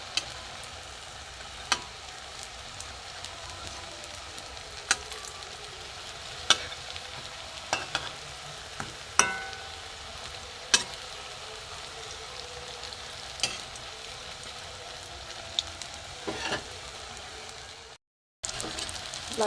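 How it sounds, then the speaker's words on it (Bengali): Semolina and vegetable snacks fry in hot oil until reddish-brown, a continuous soft sizzle with sporadic sharp pops and crackles throughout, close and unbroken by speech apart from a brief dropout near the end. "একদিকটা লাল লাল করে ভেজে নিচ্ছি।"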